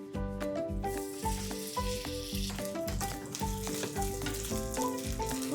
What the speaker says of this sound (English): We're gonna pan fry a few gnocchi for the brown butter